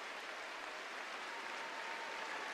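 A Moscow crowd applauds figure skaters Vera Bazarova and Yuri Larionov after a pairs performance, a dense, steady wash of clapping that fills the arena without letup.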